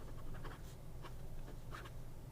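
A Hongdian A6 fountain pen with a soft, slightly bouncy fine nib moves across paper in a few quick, faint scratchy strokes, heard up close.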